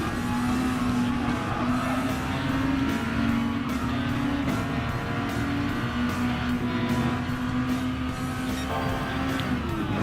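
Red Bull X2014 Junior race car from Gran Turismo Sport drones with a steady high-pitched engine whine, holding a sustained tone with slight pitch shifts, loud and continuous without any talking.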